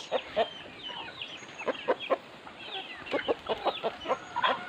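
Native chickens clucking on a farm, with short repeated clucks and calls in uneven bursts close by over a soft outdoor background, no talking.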